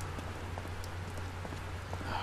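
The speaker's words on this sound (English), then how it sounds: "it's raining again!" Rain falling in the video game Silent Hill Downpour, a faint, steady patter of drops with a low hum underneath and no voices.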